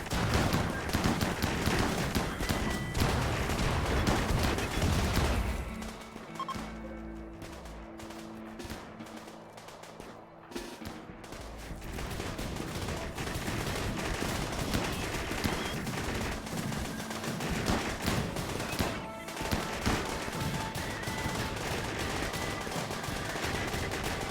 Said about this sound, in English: The mechs rounded the corner and opened fire on the unsuspecting travelers.